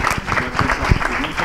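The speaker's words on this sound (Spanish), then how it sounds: "un fuerte aplauso para esta niña" A small audience at a children's Christmas drawing prize ceremony in Úbeda claps in uneven bursts close by, fairly loud, with some voices mixed in.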